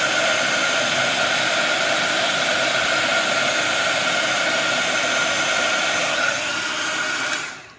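A heat gun roars steadily as it melts white embossing powder on a craft butterfly, a loud, even blowing hiss with a faint whine that runs unbroken and then tapers off at the end, with no voices.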